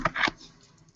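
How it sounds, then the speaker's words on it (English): A few quick keystrokes on a computer keyboard, two or three close clicks in a fast burst before fading into quiet room tone. "Let me just type in here"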